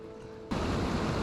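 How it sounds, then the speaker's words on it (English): Water pounds against the brick walls at a dead end by Honing Lock on a disused waterway in freezing weather, a steady broadband wash of rushing, churning water that starts suddenly and holds loud and close. "you can hear the water pounding against the brick"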